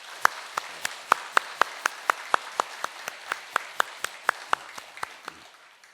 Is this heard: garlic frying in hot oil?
no